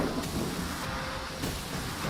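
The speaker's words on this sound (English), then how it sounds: "Now the rain's coming." Heavy rain pours down steadily in the outback with a low rumble of thunder beneath it, a dense, continuous hiss filling the whole stretch with no voices.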